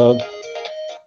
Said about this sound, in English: sorry about the phone interruption there.